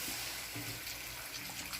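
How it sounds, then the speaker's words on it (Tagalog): A small amount of water is poured into a hot pan of sotanghon guisado with Baguio beans and sayote, a steady close splashing gush blending with the sizzle throughout. "Konting tubig, kawanin."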